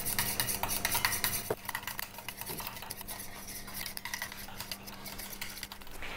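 A water-in-oil cream emulsion is stirred in a bowl, a utensil clinking and scraping in rapid, uneven strokes against the side, close and fairly quiet, with a low steady hum behind it.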